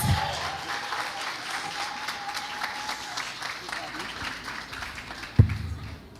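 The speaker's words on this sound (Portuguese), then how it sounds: "Uma salva de palmas!" An audience at a church political event breaks into steady applause, a continuous wash of clapping with a brief louder thump near the end and faint voices underneath.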